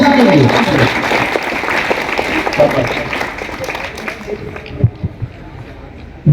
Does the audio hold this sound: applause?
yes